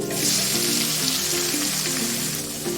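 Onion sizzling in hot oil with a tempering of asafoetida, peanuts, mustard seeds, urad dal, chana dal and cumin for mango rice, a steady close crackle with a faint tonal hum underneath.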